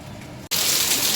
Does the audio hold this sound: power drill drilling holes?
no